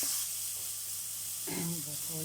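Vegetables sauté in a pan with a constant hissing sizzle, joined partway by a speaking voice over the frying.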